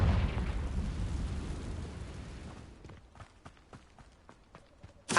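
A Confringo spell explosion in Hogwarts Legacy, a loud roaring blast that decays over a few seconds into a string of sharp footstep-like thuds, with a sudden burst at the very end.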